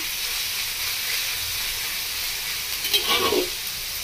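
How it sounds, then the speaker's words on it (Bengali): Pointed gourd and onion fry in a pan with a steady, close hiss of sizzling oil and steam, one brief louder flare near the end, and no voices. "পটল আর পেঁয়াজটা ভালো করে ভেজে নিয়েছি।"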